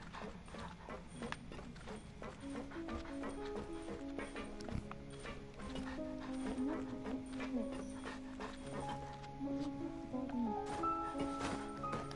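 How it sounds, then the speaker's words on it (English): A small dog in the Genshin Impact video game being petted, with yips and soft whimpers over game music and light clip-clop-like footsteps, a voice briefly speaking in the background. "Let me pet the doggy."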